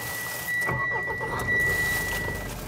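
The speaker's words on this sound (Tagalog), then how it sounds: "in-start ko yung makina ng sasakyan" A Mitsubishi Montero GLX with a manual gearbox cranks and starts inside a hot warehouse, a brief whirring crank catching into a steady idle, with a thin chime tone running alongside.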